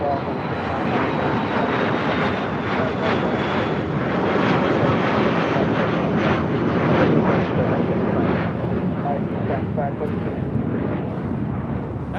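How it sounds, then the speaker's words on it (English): A Dassault Falcon 8X business jet at LAX roars loudly and continuously as it passes, a broad engine rush with wind buffeting. "That is a Dassault Falcon 8X."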